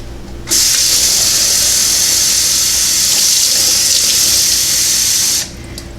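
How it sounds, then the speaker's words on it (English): Warm water runs steadily from a tap into a bottle for homemade dog shampoo, a constant hissing splash for about five seconds that starts and stops abruptly, with no talking. "Then what I do is I fill this up the rest of the way with warm water."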